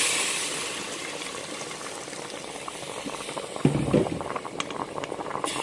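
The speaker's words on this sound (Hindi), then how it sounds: "इसमें पानी डाल दूँगी मैं" Water poured into a pot of chicken for pilaf, a steady liquid rush with a sudden louder gush near the end, heard close and alone without talk.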